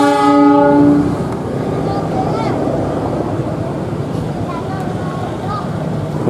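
A train shunting carriages between tracks on an Indonesian railway opens with a loud, sustained horn blast, then a rumbling, clanking roll of rail cars continues under faint background voices.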